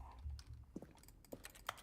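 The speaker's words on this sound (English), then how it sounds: "this is just the sound of me clicking" Clicking on a computer keyboard or mouse during play of The Stanley Parable: Ultra Deluxe, a few sharp, scattered clicks at a quiet level with soft low rumble between them and no talk.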